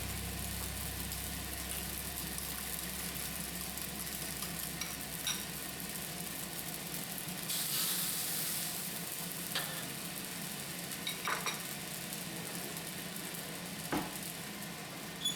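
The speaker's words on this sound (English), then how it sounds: "Push the rice to one side of the wok or pan and add the whisked eggs." Whisked eggs sizzle in a hot wok beside restaurant-style fried rice with green onion, a steady dense frying hiss with a brief louder burst partway through and a few faint clinks, with no voices.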